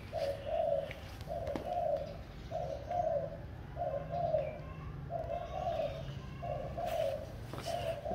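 A dove coos steadily in a garden of large potted bonsai trees near Hanoi, about seven evenly spaced cooing phrases close to the listener, with a low background hum beneath.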